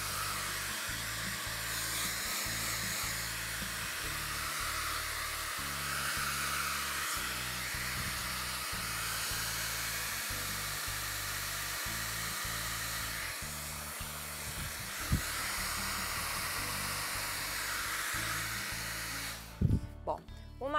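A hair dryer blows steadily and close by while drying painted wood for a craft project, a continuous airy roar that runs almost unbroken before stopping near the end.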